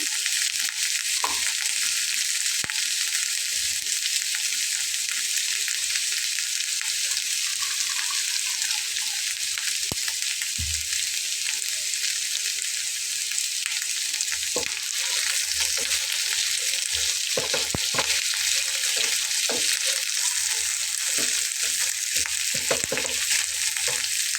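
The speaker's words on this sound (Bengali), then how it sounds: "মশলাটা বেশ ভালোভাবে ভাজা হয়ে যাবে" Garlic and ginger spice paste fries in a pan for an egg curry, a steady loud sizzle with scattered clinks and scraping of a spatula, no one speaking.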